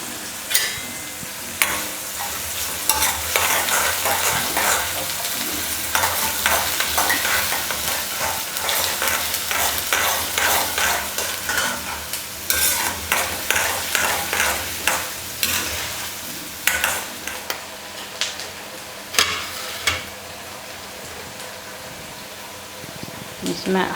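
Onion, red chilli pieces and ajwain sizzle steadily in a hot pan while a spoon stirs and scrapes with frequent clicks, the crackling hiss staying loud and dense throughout.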